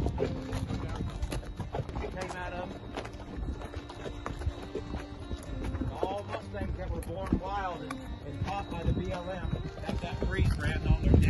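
Horses on a trail ride near Las Vegas walk along with steady, overlapping hoof clip-clops, close by, while people talk over the sound.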